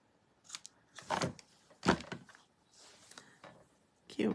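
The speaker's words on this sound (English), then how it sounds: "Okay, so we can cut this off." Scissors snip through ribbon on a papercraft project in a few soft, close cuts and crinkles, quiet and irregular, with faint voice in the background.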